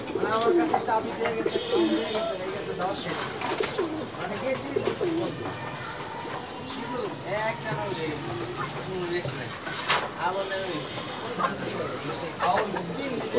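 A loft of Kanthi-necked pigeons keeps up a continuous chorus of rolling coos and scattered chirps nearby, with a few sharp knocks and voices talking throughout.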